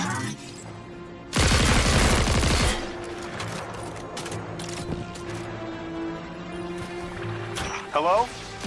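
Player gunfire in Destiny 2, a loud rapid burst of automatic shots for about a second, followed by quieter game ambience with tones and a voice, then a short second burst near the end.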